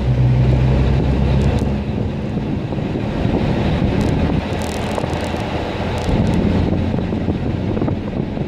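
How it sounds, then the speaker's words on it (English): A 1947 Chevrolet pickup truck engine chugging in third gear at about 40 mph, a loud continuous low rumble with heavy wind buffeting and road noise, no voices. "Third gear chug."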